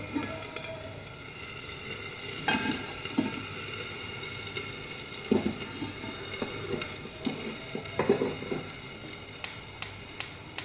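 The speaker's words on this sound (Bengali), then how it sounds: "আমি এবার অন্যদিকে চিংড়ি মাছগুলো সামান্য ভেজে নেব" Prawns frying lightly in mustard oil in a pan, a low continuous sizzle with scattered clicks and taps of utensils, fairly quiet and with no talking.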